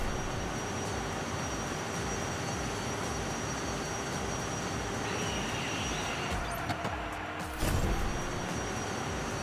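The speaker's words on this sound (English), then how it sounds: "I just want to rev the car and see what it sounds like." A car engine in the racing game Hot Wheels Unleashed 2: Turbocharged drones as a steady, loud roar, then a sharp burst of noise near the end.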